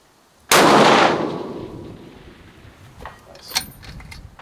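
A single sharp FN SCAR 20S rifle shot at long range practice outdoors, loud and close with a decaying echo rolling away, followed by faint clinks and movement.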